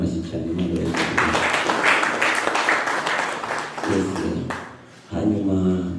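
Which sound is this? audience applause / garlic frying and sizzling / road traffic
audience applause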